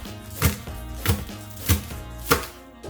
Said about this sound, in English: we're going to take some green onions. And we're going to chop those babies up